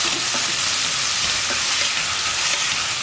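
Onions sizzle and fry steadily in a pan for a soya roast, with faint stirring scrapes now and then; a loud continuous frying hiss with no talk.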